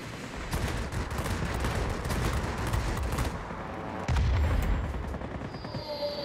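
Heavy bombs burst in the World of Warplanes combat game, a dense rumbling barrage of low booms and crackling blasts that rolls on for several seconds, with a fresh, louder impact near the end.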